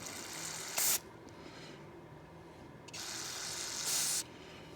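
Two short bursts of hissing spray of parts cleaner onto lawn tractor parts (Cub Cadet 1450), about three seconds apart, close by, with a faint steady background hum between them.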